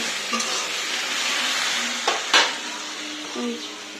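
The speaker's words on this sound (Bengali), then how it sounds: "একদিকে দুধ ফুটছে আর একদিকে ঢেঁড়সের তরকারি" Okra curry sizzles and bubbles steadily in a pan, with a faint stir and a brief clank of a utensil against the pan partway through, close and continuous.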